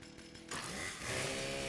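A chainsaw in the video game Fallout 76 starts up and keeps running, a steady buzzing whine that grows louder after a brief quiet start, with no talking.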